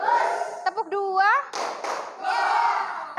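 A classroom of students claps a rhythm pattern on a teacher's cue during an Indonesian practice lesson. Short bursts of clapping alternate with the teacher's voice, which dominates much of the moment.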